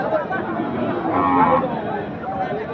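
Cows low at a livestock market in Birganj, Dinajpur, Bangladesh, a drawn-out moo rising over the murmur of crowd chatter and nearby voices.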